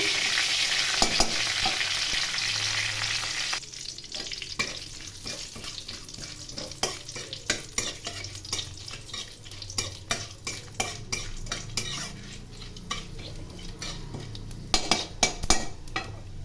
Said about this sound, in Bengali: একটি তেজপাতা ও পাঁচফোড়ন। এগুলি খুব ভালো করে ভেজে নিতে হবে।